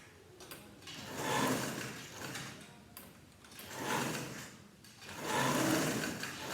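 Sewing machine stitching across the facing and shoulder seam of a vest, a soft mechanical whir that rises and falls in three short runs with quiet gaps between.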